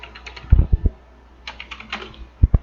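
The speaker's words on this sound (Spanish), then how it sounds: "después de ello sí daremos enter en nuestro teclado para poder hacer el cambio" Computer keyboard keys pressed while editing a Word document, a few sharp, close clicks in short clusters with pauses between, ending with a firmer double tap like Enter being hit.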